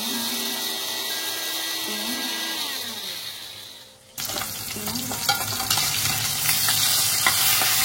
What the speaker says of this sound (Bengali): এবার আমি ইলিশ মাছের মাথাগুলোকে ভেজে নিই।